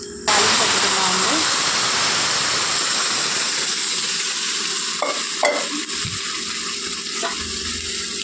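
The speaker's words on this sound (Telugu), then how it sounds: "తాలింపు వేగిందండి. గోంగూర తాలింపులో వేసుకుందాము." Gongura leaves hit hot oil in a tempering, bursting into a loud, dense sizzle that holds steady and close throughout, with a few brief clatters near the end.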